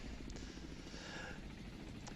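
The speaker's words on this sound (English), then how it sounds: "That helicopter is like on top of us." A helicopter hovers directly overhead in the submarine game Cold Waters, a dense low rotor drone filling the short moment at steady loudness, fairly faint overall.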